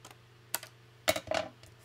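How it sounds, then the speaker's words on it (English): Paper cut with scissors for junk journal ephemera, a few short crisp snips up close, the last pair louder and grouped together. "Try and see if I can cut straight."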